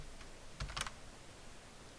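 A few quick keystrokes on a computer keyboard while entering a file name during programming, brief and faint clicks clustered together over a quiet room hiss.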